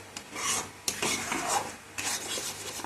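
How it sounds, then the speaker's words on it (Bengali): Raw mango pickle being stirred and mixed in a pot, a coarse rasping scrape repeating in a few close, steady strokes with no talking. "ভালো করে মিশিয়ে নেব।"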